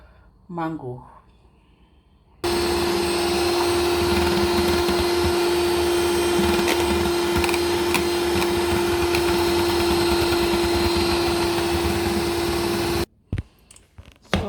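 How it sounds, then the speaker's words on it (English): Electric mixer whipping cream for homemade ice cream, a loud steady whirring drone holding for about ten seconds, with brief voice and handling noises before and after. "I'm just going to whip my cream"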